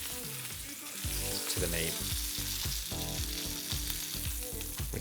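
Lamb rump browning in a hot pan with added lamb fat, a steady loud sizzle and crackle that swells as the meat settles in, with a brief spoken phrase over it.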